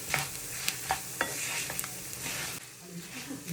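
Coriander and cumin seeds dry-roasting in a pan for Andhra nalla karam podi, a soft hissing sizzle with several sharp scrape-and-tap sounds of stirring, close and short.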